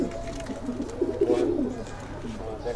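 Pigeons coo softly at a pigeon farm in Bangladesh, a few low rolling calls in the foreground with someone talking in the background.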